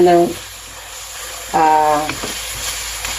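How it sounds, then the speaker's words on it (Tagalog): Dried pork for adobo sizzles and crackles in hot oil, a loud, steady frying hiss that carries the whole way through, with brief bits of a voice talking over it. "lagyan ko na siya ng oil para iprito na"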